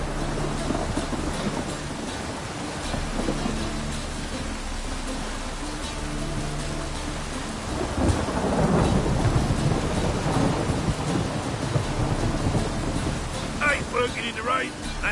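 Steady rain and deep rolling thunder fill a stormy scene in the video game The Witcher 3, the thunder swelling loudly midway over constant, close rainfall.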